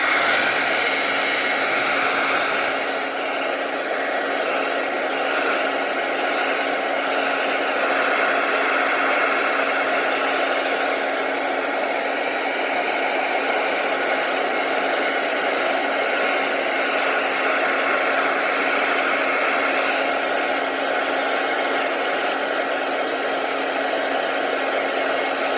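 A steady, loud hot-air blower heating a gun part roars continuously with a constant whirring hum and airy hiss, no voices.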